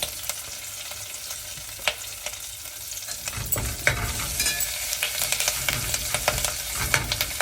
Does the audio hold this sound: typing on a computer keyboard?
no